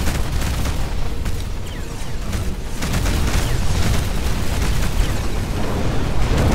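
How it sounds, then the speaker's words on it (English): An enemy ship blowing up in a space battle video game, heard as a loud, sustained roaring explosion with rumbling low end that stays dense and continuous, swelling slightly toward the end. "One of the enemy ships has been destroyed."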